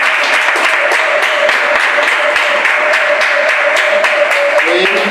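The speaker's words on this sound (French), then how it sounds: "Acclamons-le très fort." A church congregation at Mass in the Sainte Rita parish, Cotonou, applauds loudly and steadily, a dense wash of many hands clapping with a few sharper individual claps standing out.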